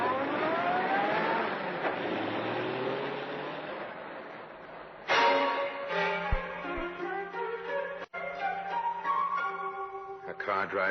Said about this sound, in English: A car drives away.